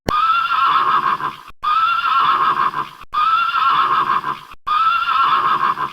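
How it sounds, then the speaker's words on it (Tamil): A horse neighs four times in a row, each a loud close whinny about a second and a half long with brief silences between, with no talk. "குதிரை. குதிரை."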